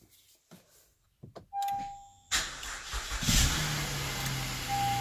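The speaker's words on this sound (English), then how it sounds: "But now I'm gonna start the car." A 2018 Honda Pilot's engine cranks and catches after a few door and chime sounds, then settles into a steady idle, heard close from inside the car with a warning chime.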